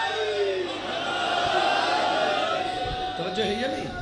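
Crowd at a Shia majlis in Taunsa Shareef shouting a religious slogan together, a loud sustained massed roar of voices rising and falling over about four seconds, close and filling the space.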